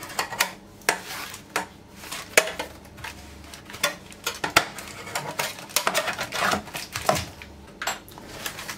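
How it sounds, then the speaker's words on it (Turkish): A knife is run around the edges of a cooled cake still in its baking pan. Close metallic scrapes and clinks repeat in quick, irregular taps, with no voices. "Şöyle kenarlardan bıçakla biraz genişletiyorum rahat çıkması için."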